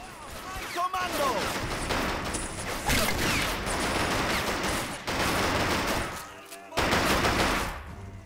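Machine gun fire in Men of War: Assault Squad 2, rapid sustained bursts rattling close and loud with brief gaps between them, mixed with crashes and battle noise, while voices speak over it.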